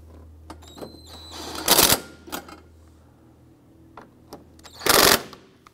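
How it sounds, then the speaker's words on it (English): Torque strut components on a 2004-2008 Acura TL being tightened: two loud bursts of impact-gun rattle separated by short ratchet clicks and metallic taps, close by with no speech. "we're going to go ahead and tighten down all of our torque strut"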